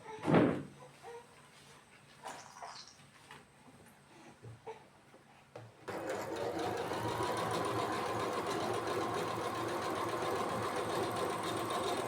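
Sewing machine stitching the shoulder seam of a nightie, starting after a few quiet handling knocks and a thump, then running as a loud, steady close whir that continues unbroken to the end.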